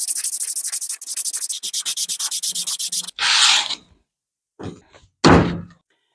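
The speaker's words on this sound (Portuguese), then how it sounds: "vou lixar agora essa parte aqui de fora" Rhythmic back-and-forth sanding strokes on the outside of a wooden whisky box, close and steady for about three seconds, followed by a few louder rubbing scrapes and knocks as the piece is handled.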